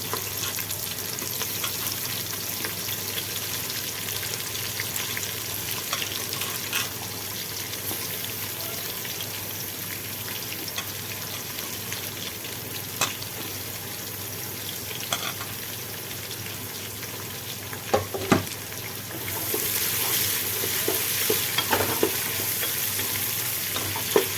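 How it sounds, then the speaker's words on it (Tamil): Onions fry in a pan for a mushroom biryani with a continuous soft sizzle and occasional stirring scrapes and clinks, which grow a little louder and brighter toward the end. "வெங்காயம் நல்லா வதங்கணும்."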